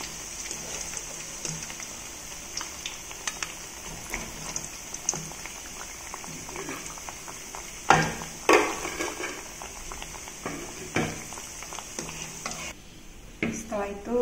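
Spices frying in hot oil, a steady sizzling hiss with stirring scrapes and occasional louder spits and crackles, a voice talking faintly underneath.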